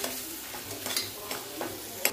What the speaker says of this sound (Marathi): परत ह्याला मिक्स करून घ्यायचं।